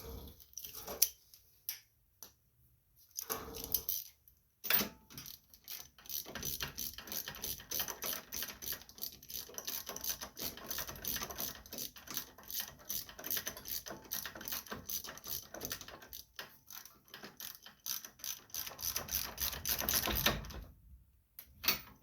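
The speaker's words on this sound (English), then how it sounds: "I'm gonna go ahead and put the new spark plug back in." Mechanical clicking and ratcheting while a new spark plug is threaded back into a Craftsman leaf vacuum, a steady run of close, dense little ticks with short pauses near the start and end.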